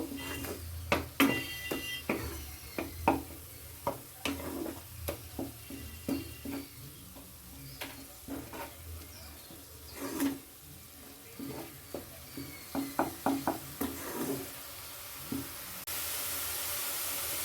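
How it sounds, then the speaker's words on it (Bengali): Ground onion paste fries in a pan for Bengali-style dahi katla. A steady soft sizzle runs throughout, broken by frequent sharp scraping and stirring clicks. "পেঁয়াজটা হালকা লাল করে আমি একটু ভেজে নেব"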